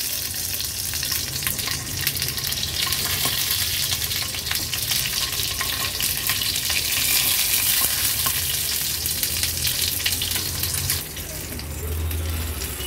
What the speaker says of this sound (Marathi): एक एक करून हे टोमॅटो आपण ह्याच्यात ठेवूया